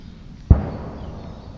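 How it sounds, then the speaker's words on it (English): A single distant boom from a gas-cannon bird scarer rolls across quiet woodland, a short low thud followed by a long fading rumble under steady outdoor background noise. "Except for the bird scarers."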